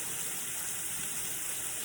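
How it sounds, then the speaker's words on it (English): Hands are washed under a running tap, a steady, even hiss of flowing water that continues unbroken throughout. "Wash my hands real quick."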